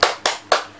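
Three sharp, evenly spaced hand claps from a group in a child-protection training session's clapping game, close and loud, with no talk over them.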